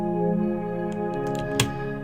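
Layered synth pads in an orchestral pop production hold sustained, rich chords with a brief bright transient near the end, playing alone at moderate level.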